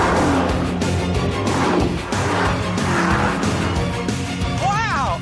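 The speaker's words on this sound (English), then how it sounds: "this just might be the world's first wagon supercar" Cadillac CTS-V wagon driving hard, engine roaring loud and close throughout with tires squealing in rising, wavering chirps near the end, a brief voice faintly underneath.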